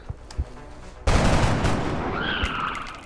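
Gunfire from the XCOM video game erupts after a few faint taps: one sharp loud shot blast that rolls into a sustained rumbling tail with a rising whine near the end.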